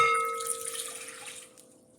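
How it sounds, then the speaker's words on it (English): Water pours from a tap into a container for garlic knot dough, a short splashing stream that fades out within two seconds. "We get our water."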